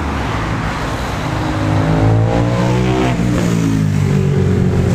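A 2018 Aprilia Dorsoduro 900 motorcycle fitted with a new Roadsitalia ProjSix exhaust revs repeatedly, its pitch sweeping up and down in several throttle blips, loud and fairly close with steady engine rumble underneath and no speech.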